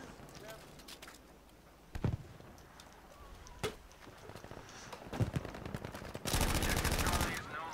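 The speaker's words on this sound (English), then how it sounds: "This MG is terribly bad at hip firing." Battlefield V machine gun hip-fired in scattered single cracks and short bursts, ending in a sustained loud roar of rapid automatic fire with background battle noise.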